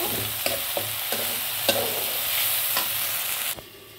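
Ginger, green chili and cumin paste sautéing in hot spiced oil, a loud, close, steady sizzle punctuated by regular scraping strokes of a stirring spoon, dropping off sharply near the end.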